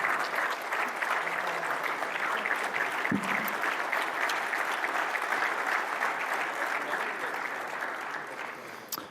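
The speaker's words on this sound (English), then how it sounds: "We'll have you guys step forward here and give a round of applause for Daniel." An audience at a mayor's breakfast gives a steady, dense round of applause, many hands clapping together at moderate distance, fading slightly toward the end.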